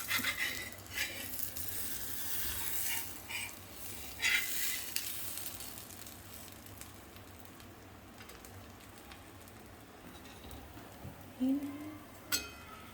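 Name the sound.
paratha cooking on a pan over high flame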